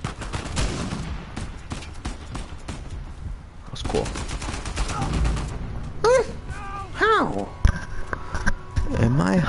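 Gunfire in the video game Uncharted 4, loud bursts of rapid machine-gun shots and single cracks through the first half, then quieter stretches with scattered shots, while someone talks over the action.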